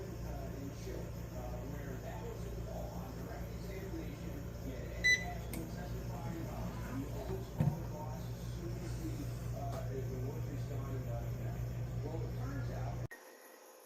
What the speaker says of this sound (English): So now we're just going to put them in our air fryer, set to dehydrate at 125 degrees for 10 hours, and let it go.